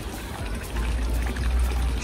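Water pours from a fountain spout in Zurich, a continuous close splashing trickle that swells slightly louder partway through, heard alone without voices.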